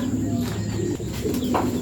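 Racing pigeons coo softly in a loft, low rolling calls repeating under a steady background hum, with faint bird chirps and a murmur of voices nearby.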